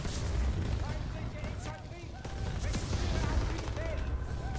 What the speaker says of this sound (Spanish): Y se me va a acabar la munición del lanzallamas ya.